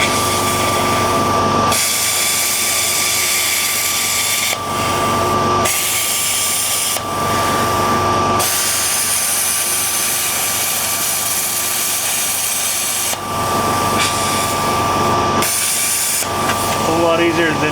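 A plasma cutter slices through a tapered metal rain gutter in loud, close bursts of hissing roar broken by short pauses, with a steady electrical hum underneath.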